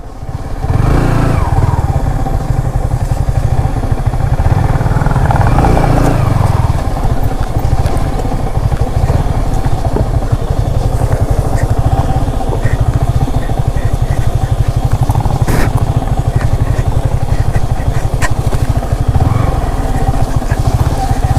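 An off-road motorcycle rides the clay hill trails of Bijoypur, its engine loud and close with a continuous throbbing drone and occasional revs throughout.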